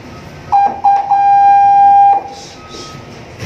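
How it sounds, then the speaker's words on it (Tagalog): A steady electronic fire alarm tone sounds during a fire drill in a few short beeps, then one long sustained blare lasting over a second, fairly loud against low background noise. "Alarm signal. Fire alarm."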